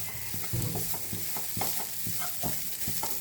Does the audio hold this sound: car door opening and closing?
no